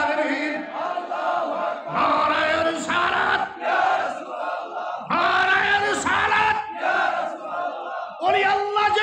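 A large crowd chants religious slogans in unison at a Bangla Islamic sermon on the saints, loud rhythmic call-and-response bursts of many voices repeating across the whole stretch.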